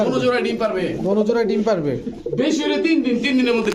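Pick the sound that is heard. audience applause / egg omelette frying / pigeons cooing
pigeons cooing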